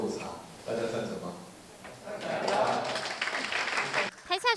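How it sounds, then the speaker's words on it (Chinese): Students in a university audience at a political campaign event applaud and cheer, a crowd of clapping and shouts rising midway and building to a loud burst, with speech heard alongside. "台下学生鼓掌叫好"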